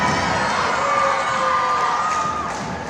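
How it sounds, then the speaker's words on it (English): A crowd of students cheers loudly and without a break at a school's first unified basketball game, with high shouts and whoops filling the gym for about three seconds. "the crowd was cheering for both teams and all players"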